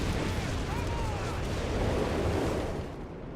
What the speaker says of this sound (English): Freaking artillery barrage.